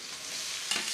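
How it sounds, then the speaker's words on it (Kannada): Shredded cabbage tossed into a hot pan with capsicum and onions for egg fried rice, giving a steady close sizzle and a brief scrape of stirring near the end. "ಕೋಸ್ ಹಾಕ್ತಾ ಇದ್ದೀನಿ."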